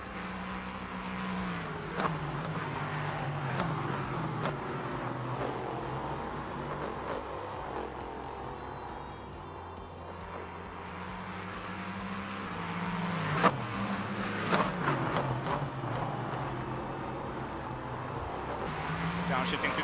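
LMP3 prototype race cars downshift through the chicane at Imola during a one-hour European Trophy race, engines droning and blipping steadily at mid distance, with a commentator talking over them throughout.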